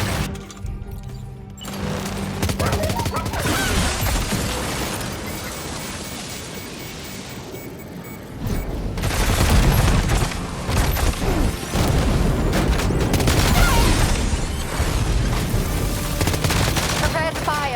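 Heavy weapons fire in the Death Stranding 2 video game, loud, dense bursts of gunfire and booming impacts that intensify after a brief lull, with a voice briefly heard amid the barrage.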